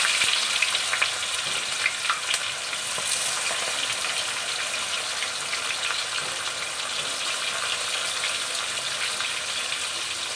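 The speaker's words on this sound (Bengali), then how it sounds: "এবার আমি বারিস্তার জন্য পেঁয়াজ ভাজবো" Onions fry in hot oil to make crispy barista for homemade chicken biryani, giving a steady, close, crackling sizzle that holds evenly throughout with no voices.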